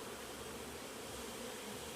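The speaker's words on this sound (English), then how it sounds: "The bees seem to be rather active, as you can tell" Honey bees swarm around an open hive during a brood-and-honey frame inspection, giving a steady, faint, even hum that holds without a break and with no voices.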